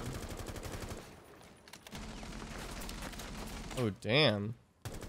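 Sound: automatic gunfire from a video game

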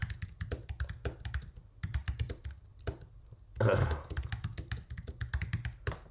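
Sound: typing a WordPress post on a computer keyboard

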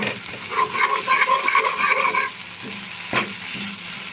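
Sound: mutton brain frying in a pan

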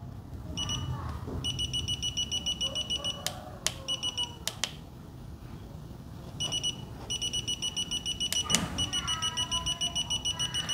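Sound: digital level beeping at 90 degrees

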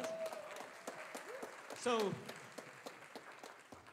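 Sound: audience applause for jazz percussion ensemble

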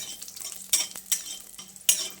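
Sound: lentil dumplings frying and stirred in oil

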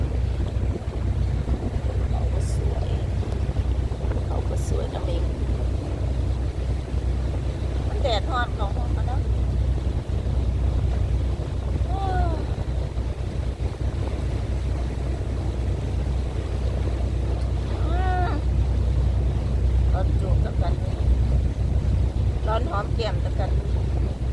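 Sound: boat ride back to shore

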